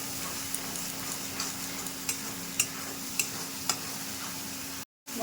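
Turmeric, cumin and coriander powders sautéing in a pan for a katla fish and potato curry, a quiet steady sizzle with a few soft spoon taps against the pan, then a brief drop to silence near the end.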